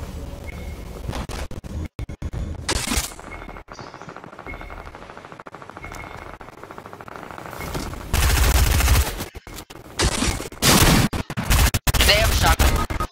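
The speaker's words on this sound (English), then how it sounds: "They have a shotgun." Gunfire from a video game battle royale match, with loud bursts of shots arriving in clustered volleys late on, preceded by scattered game sounds and a player talking throughout.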